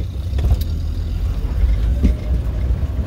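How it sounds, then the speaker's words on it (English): A Triumph TR6 sports car driving, with a steady, close, loud engine rumble and road noise throughout and a faint burst of gear or rev change midway. "this Triumph TR6 is seriously a joy to drive"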